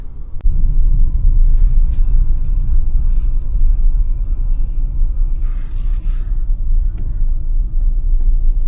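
An all-wheel drive car driving along a muddy road in winter, a loud, steady low rumble of engine and tyres from inside the cabin, with a few brief clicks and rattles over it.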